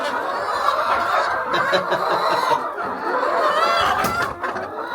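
A group of village chickens clucking and chattering nearby, a busy overlapping flock sound with no talking.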